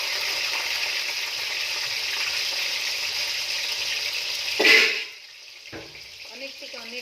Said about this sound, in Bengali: আমি আগে না আলুগুলো না ভেজে নিই।